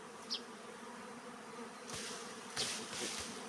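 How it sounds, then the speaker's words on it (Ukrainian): Honeybee swarm being shaken from a branch into a bucket outdoors, giving a faint, steady hum of buzzing bees with a few louder passing buzzes close by and brief rustling knocks. "Не знаю, чи добре мене чути, бджоли гудять."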